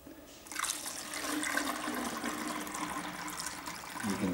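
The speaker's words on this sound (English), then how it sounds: "You then basically pour it into your bottles." Homemade elderflower cordial pours into bottles with a steady, close liquid gush and trickle lasting several seconds.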